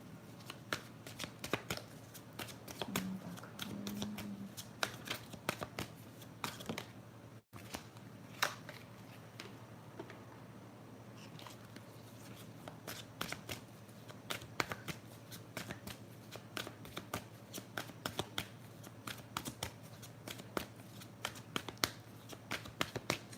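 Tarot cards being shuffled and pulled from the deck during a reading, a long run of close, rapid riffling and flicking with short pauses between bursts, no talking.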